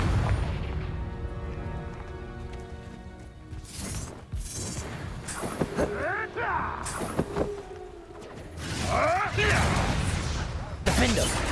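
Confringo fire spells in Hogwarts Legacy burst in a few booming explosions with crackling blasts, heard over swelling game music and combat effects, with a voice shouting spell names.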